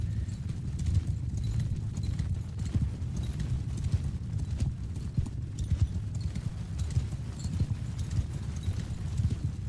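Many horses gallop in a Mount & Blade 2 Bannerlord battle, a dense, continuous drumming of hooves at steady moderate loudness with no break.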